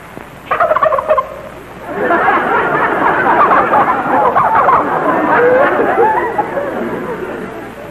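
A flock of turkeys gobbling loudly and continuously from a basement, a dense chattering babble of overlapping calls rising after a brief opening burst.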